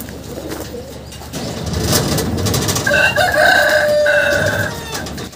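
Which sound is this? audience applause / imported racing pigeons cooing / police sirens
imported racing pigeons cooing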